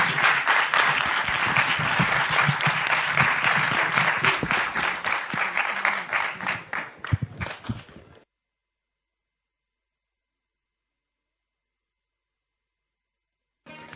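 An audience at a round table event applauds steadily for about eight seconds, the clapping fading out before a long silence.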